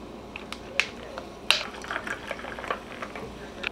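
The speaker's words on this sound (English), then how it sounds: "we're just going to go in with some club soda" Club soda poured into a summer cocktail, a faint fizzing hiss with a few soft clinks and sharp splashes, close and quiet, with no one talking.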